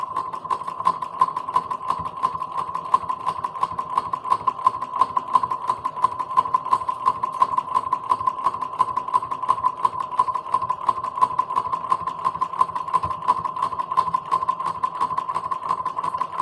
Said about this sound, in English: Lower your presser foot down and begin to sew 1/4 inch.